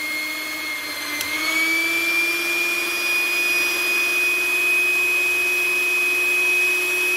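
Electric hand mixer, type 181.6, running steadily after its drive gears were replaced, giving a continuous close motor whine with a faint pitch rise early on, then a smooth even hum.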